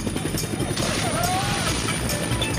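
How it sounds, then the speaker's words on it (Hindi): A cartoon helicopter flying out of control, a steady rotor drone with a sliding whistle, heard under talk and background commotion. "हेलीकॉप्टर उनके कंट्रोल में नहीं है"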